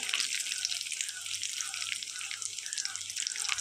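Dry red chilies, bay leaves, whole cumin and whole garam masala crackle in hot oil left after frying prawns, a soft steady sizzle with faint popping, close and quiet, with no talking.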